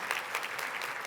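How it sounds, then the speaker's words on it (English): Audience at a Women of Achievement event applauding its honorees, a brief, dense and steady wash of clapping from a crowd, moderately distant and heard alone. "It's okay to clap."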